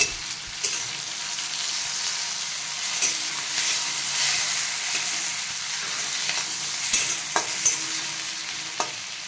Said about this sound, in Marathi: लालसर छान असा कांदा भाजून घ्यायचा. टोमॅटो टाकून घेतलं.